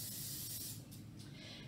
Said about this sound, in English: you're going to take your butter flavored cooking spray and you're going to do a light layer over the tortillas